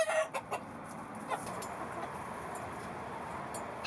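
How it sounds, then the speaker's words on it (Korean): Chickens cluck in a farm setting where a large stray dog from the Bukhansan mountains attacked the flock: a few sharp clucks near the start, then steady low background noise with faint bird calls. "구사일생 목숨을 구한 닭은 9마리."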